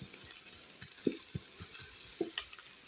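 Onions frying in a pan in an African village kitchen, a soft steady sizzle with occasional stirring clicks and scrapes, fairly quiet and close.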